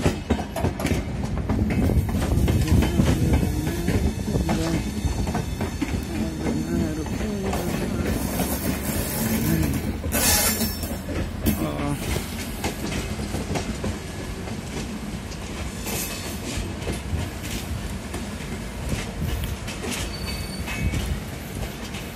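A train rumbles past the diamond crossing at Nagpur Junction in India, a loud, continuous roll of wheels and rail clatter with brief squeals, and a voice talking over it at times.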